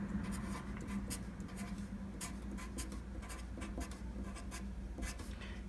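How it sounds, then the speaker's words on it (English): A pen or pencil writes out algebra on paper, a continuous scratchy stroking with rapid short scrapes that stays steady and close throughout, with no voice over it. "So I'll go ahead and write all that out down here."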